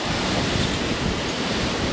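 Rushing, churning flood water surges against a breakwater in Navotas in a dense roar, with wind buffeting the microphone and no voices.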